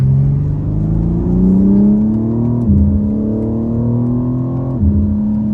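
A 2022 BMW M4 Competition xDrive coupe accelerates hard from inside the cabin, its engine note climbing steadily through the gears with quick dips at the shifts, loud and continuous.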